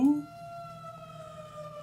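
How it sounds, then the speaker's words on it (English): A faint, steady two-tone emergency vehicle siren in a video game drones in the background, thin and distant, after a brief louder burst at the start. "sounds like one of those like European ambulances or police cars that people laugh at that has a funny siren"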